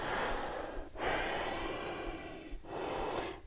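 A long, audible exhale through the nose during a yoga forward fold, then a brief pause and another breath beginning, close and clear with no speech.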